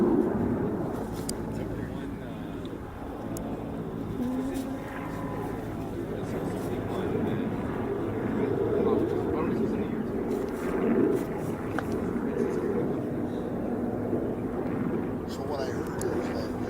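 A T-38 jet makes a high-speed pass over the runway at Oshkosh: a loud, sustained broadband roar that holds steady for the whole stretch, with voices faintly mixed in.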